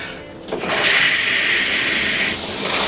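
Water bursts on and runs steadily from a shower in an aqua class bathroom aboard the cruise ship Celebrity Eclipse, a close, loud continuous hiss and spray with no talk.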